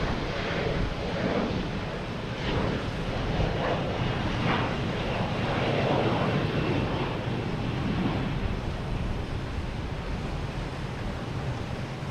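An American Airlines Embraer E175 jet passes at Boston Logan Airport as a steady, broad roar blended with wind noise, sustained throughout and with no voices.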